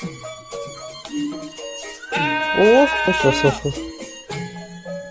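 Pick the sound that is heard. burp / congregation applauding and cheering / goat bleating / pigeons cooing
goat bleating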